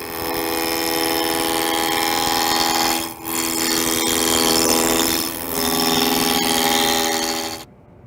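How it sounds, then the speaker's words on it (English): Wood lathe roughing a candlestick blank down to a cylinder, heard as a steady, loud humming motor drone with a faint scraping cut. It runs continuously with two brief dips, then stops abruptly near the end. "Now rough this down to a cylinder about 2 1/4 inches in diameter."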